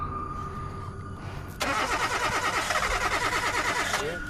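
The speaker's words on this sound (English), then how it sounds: "each time the woman attempts to start her car, it's still having trouble" A car engine cranks repeatedly without catching: a quiet hum, then a loud, steady rhythmic grinding of the starter that keeps churning for a few seconds before cutting off, close by.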